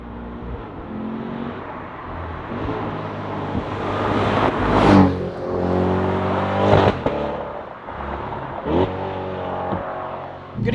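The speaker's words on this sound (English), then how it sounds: "anytime you hit the throttle, you get that instant just jump and that push right behind you" A Chevrolet C8 Corvette with a dual-clutch transmission accelerates hard under throttle, its engine note climbing and surging loudly from close range in several pushes, with a sharp burst of revs midway and no talking.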